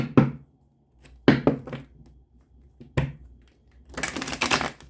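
Tarot cards are shuffled and tapped in a few sharp bursts with quiet gaps, ending in a longer riffling flutter.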